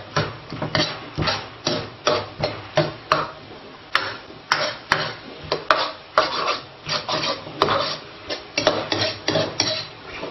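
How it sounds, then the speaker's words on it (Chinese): Garlic and ginger are tossed continuously in a wok with a metal spatula, giving steady rhythmic scrapes and clanks over a constant sizzle, close and loud, with no talking. "炒的时候还是要不停的翻动，让它均匀生热"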